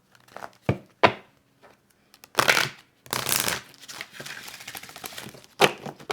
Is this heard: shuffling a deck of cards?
yes